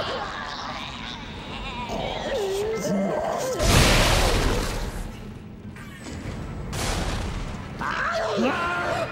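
Explosive sacks on enemies bursting in Dead Space 2, two loud booming blasts with crashing debris a couple of seconds apart, set among game noises and creature cries, with a voice talking over the action.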